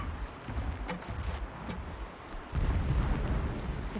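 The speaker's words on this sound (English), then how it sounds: "Explosions in the distance." Distant explosions in the video game Horizon Zero Dawn, low rumbling booms with a heavier burst near the end, faint and alone without talk.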